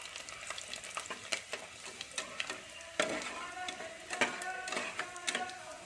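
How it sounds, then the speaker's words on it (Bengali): Whole garlic cloves frying with cumin in a pan for a chicken curry, a steady close sizzle broken by repeated spatula scrapes and clinks at an irregular stirring rhythm, with no talking. "রসুনগুলোকে আমি একটু ভেজে নেবো"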